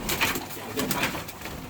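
Şebap pigeons coo in a coop, soft repeated throaty calls close by, with several birds overlapping.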